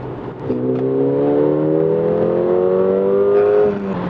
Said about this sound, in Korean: 엔진 사운드.